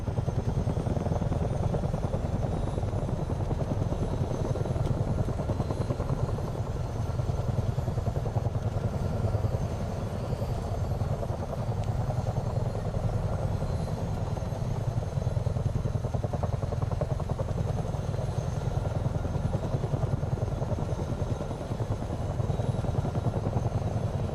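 A Chinook helicopter in Microsoft Flight Simulator 2024 drones steadily with a low rotor thrum and engine whine, constant and unbroken for the whole stretch.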